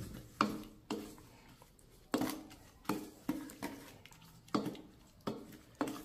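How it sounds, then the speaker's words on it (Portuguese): Grated soap and sugar being mixed in a bowl, giving close, sharp scraping clacks at a steady, repeated rhythm with quiet gaps between strokes. "A gente vai misturar aqui para agregar esses ingredientes"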